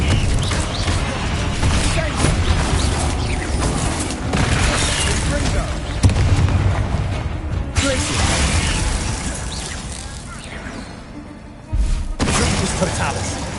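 Fiery blasting spells explode in a spider fight in the Hogwarts Legacy video game: dense, loud game action with several sharp bursts and crashes, and voices talking now and then.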